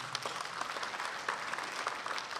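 A church congregation applauds in a steady, dense wash of clapping that holds at an even level throughout the short stretch, with no voice on top.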